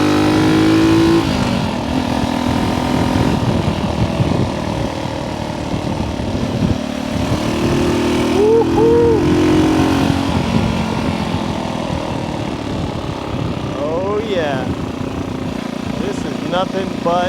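A motorcycle engine revving and shifting through gears on a lap, with steady engine drone, pitch rises and drops at shifts, and wind noise, under intermittent talk.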